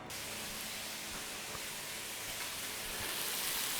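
Chopped onions frying in a little olive oil in a pan, giving a steady, even sizzle that holds at constant loudness throughout with no talking.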